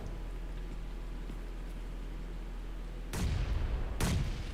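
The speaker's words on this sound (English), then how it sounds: "Multiple nades being thrown in at Su Yu." Two grenade explosions go off in a PUBG Mobile esports match, fairly close. Sharp thumping booms come about a second apart over steady background hum, with no talk.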